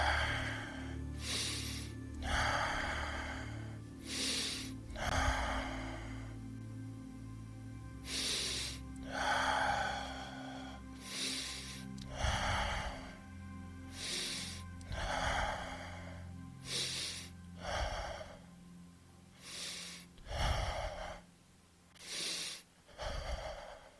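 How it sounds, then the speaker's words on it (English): Deep, rhythmic breaths drawn in and pushed out during a neck stretch against a wall, roughly a dozen loud, close inhales and exhales with brief pauses between. "push yourself towards the wall and start breathe"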